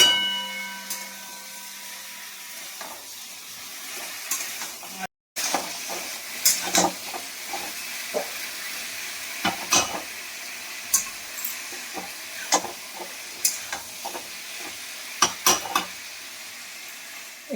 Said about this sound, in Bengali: এখানে হচ্ছে তেলটা ভাজা হচ্ছে